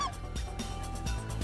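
Specklebelly geese honk in flight over Rosokastro near Burgas, Bulgaria, during a hunt; a brief, clear honking call opens the moment, followed by softer overlapping calls against open-air background noise.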